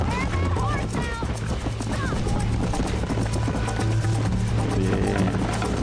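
Horse galloping in Red Dead Redemption, a steady thudding hoofbeat rhythm close by, mixed with game music and voices talking over it.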